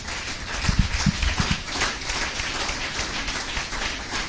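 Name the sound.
congregation applauding and acclaiming God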